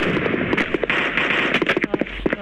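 Explosions in the mobile shooter Guns of Boom burst out as a rapid string of short, sharp cracks and pops over a busy bed of game noise, close and fairly loud.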